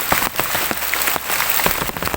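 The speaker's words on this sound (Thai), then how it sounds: "ฝนตกหนักๆนะครับพี่คิมหนาวนะครับ" Heavy storm rain pounding down in a forest, a dense close hiss broken by sharp drops and splatters striking nearby surfaces.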